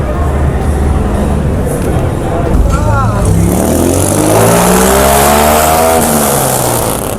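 A car engine revs up on the Las Vegas Strip near Caesars Palace, rising and falling in pitch over a dense roar of street and crowd noise, loud and close.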